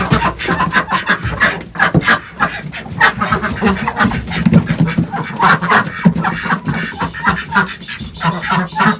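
Several pet ducks, including one named Sally, quack and honk loudly and continuously in rapid overlapping calls, close to the microphone.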